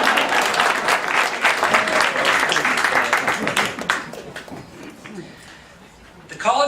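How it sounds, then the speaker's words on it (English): An audience claps steadily at the grand opening of a child study center at College of Marin. The applause thins out after a few seconds, and a voice comes in at the end. "Round of applause there."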